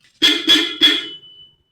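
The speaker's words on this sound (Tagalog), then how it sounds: "Pagkatapos natin ikabit yung tatlong busina, pinatesting uli natin kay customer." Three newly installed Europa car horns sounding on a customer's car, three short loud honking bursts in quick succession, the last one ringing out briefly, with no talk.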